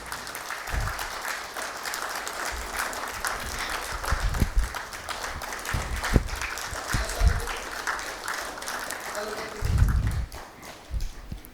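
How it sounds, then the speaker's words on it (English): Audience applause at a company stock-listing ceremony, moderate clapping from a crowd running throughout, mixed with low thumps and background noise. "I request the audience to please give him a huge round of applause"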